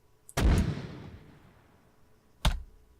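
An Mk6 82mm mortar fires at charge 1 in the video game Arma 3, heard as a sharp, loud launch thump with a fading tail, then a second, quieter thud about two seconds later.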